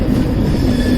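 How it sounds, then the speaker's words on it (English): A long passenger train of air-conditioned coaches pulled by a locomotive rumbles past close by, a loud, steady roar of rolling wheels with faint squealing. "There's the locomotive over there. It's a long train."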